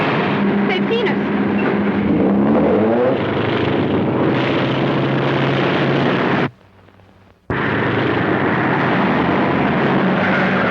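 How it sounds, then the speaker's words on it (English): A propeller airplane drones loudly and steadily overhead, the engine noise filling the scene and cutting out abruptly for about a second before resuming; people talk beneath it. "There's the plane."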